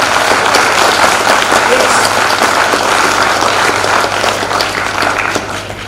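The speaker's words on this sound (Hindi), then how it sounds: "मुझे लगता है कि अगर आप अपने मदर को या फादर को लाइक करते हैं तो जोर से तालियां बजानी चाहिए" Loud, full audience applause for parents fills the room, holding strong and then gradually easing toward the end.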